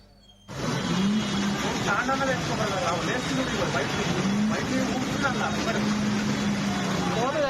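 Vehicles move through flooded roads in heavy rain in Hyderabad, a steady rush of engines and water spray with horns sounding, while a voice talks over it.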